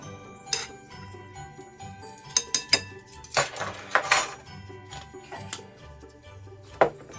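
A utensil clinks and scrapes against a bowl as mixed spice and nutmeg are stirred together, with irregular sharp taps and short clattering bursts over a quiet kitchen background.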